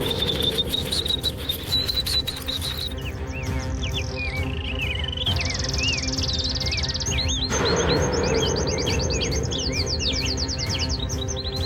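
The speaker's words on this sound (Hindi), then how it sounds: "इतने पक्षी कहाँ से आ गए?" Many birds chirping and tweeting in a dense, continuous chorus, with rapid overlapping calls growing busier partway through, heard over a steady low background.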